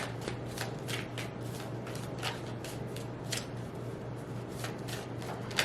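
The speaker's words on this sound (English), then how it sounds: "let me shuffle this deck because I'm going to use 2 decks for this reading" A deck of tarot cards is shuffled steadily and close up, with quiet rapid riffles and soft card slaps over a low background hum and no speech.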